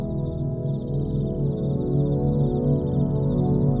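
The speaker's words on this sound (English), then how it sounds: "Can you hear the crickets? How beautiful they sound when they sing together." Faint, rhythmic cricket chirping pulses above a loud, steady low musical drone that fills the background.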